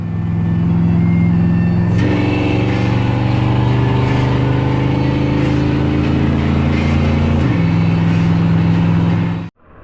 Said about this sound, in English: I hopped back in the F100, thundered home to get the truck in the trailer